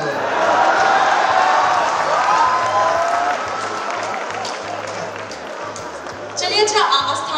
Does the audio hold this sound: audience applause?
yes